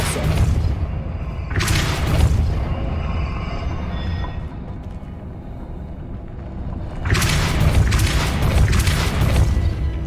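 Depulso spell cast in the Hogwarts Legacy video game, loud booming magical blasts with rumbling, one burst early and another heavier one later over a continuous low drone.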